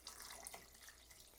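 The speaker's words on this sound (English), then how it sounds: "I'm going to probably add a little bit of water to this" Water pours in a soft, steady splash into a pot of thick beef soup, very quiet and close, with no talking.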